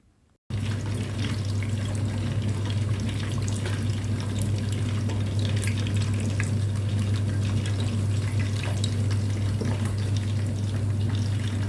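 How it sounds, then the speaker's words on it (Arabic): Katayef frying in hot oil and ghee in a pot, a steady, even sizzle and bubbling that runs unbroken at close range after a brief silent start. "منزيد القطايف اللي سكرناهن اللي بدنا نقليهم يعني، ومنتركن يقلوا لشي دقيقة أو دقيقتين"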